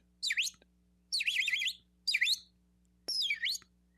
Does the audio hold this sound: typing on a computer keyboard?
no